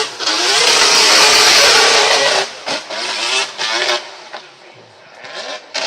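A rotary-engined drift car screams at high revs for a couple of seconds, then drops into choppy bursts of revving and a lower idle as voices talk over it, at a Formula Drift event at Suzuka Twin, Japan.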